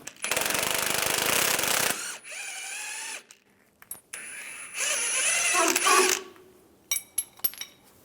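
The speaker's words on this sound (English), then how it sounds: "Use a 15mm wrench on the nut, using a 15mm socket on the bottom." A 15mm wrench and socket loosening the sway bar link nut on a 2007-2013 Chevy Silverado 1500, heard as loud bursts of rapid ratcheting and power-tool chatter broken by short pauses and a few sharp metallic clicks near the end.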